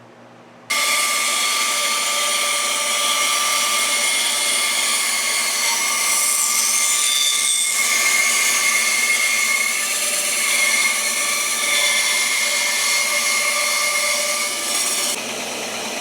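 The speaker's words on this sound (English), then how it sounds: "And now I can cut it with the bandsaw and get a flat on this side." Bandsaw cutting a piece of wormholed wood for a hand-tool handle, a steady loud whine with a rough rasp of the blade through the wood, starting abruptly and running continuously; no talking.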